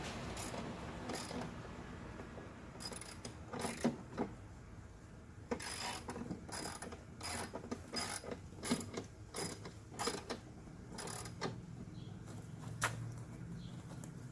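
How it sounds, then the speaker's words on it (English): Ratchet jack clicking as it raises a custom Gold Shark ball mill, with a series of sharp, repeated ratcheting clicks in uneven bursts, close up and fairly loud with no talking. "You jack it up again."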